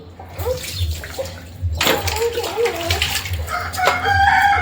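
A nine-month-old baby splashes water during an Indian-style bath, with sloshing and pouring close by, while a rooster crows in the background and someone speaks.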